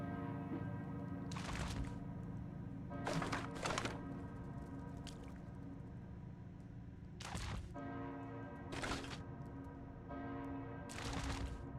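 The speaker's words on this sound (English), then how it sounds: "Sure is a lot of bell tolling." A church bell in the Caves of Qud video game tolls repeatedly at irregular intervals, each strike ringing out with a long sustained hum beneath, fairly soft and alone.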